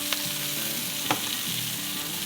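Potatoes and red bell pepper are stirred as they fry in a pan, a steady close sizzle broken by two sharp spoon knocks against the pan and softer scraping strokes.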